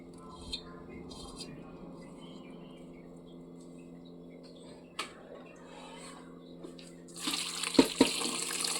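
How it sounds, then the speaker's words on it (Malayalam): Water poured into a pan of jackfruit seed masala while cooking, a faint trickle under a low kitchen hum, becoming a louder splashing pour near the end. "വേവാൻ ആവശ്യമായിട്ടുള്ള വെള്ളം ഒഴിക്കുകയാണ്."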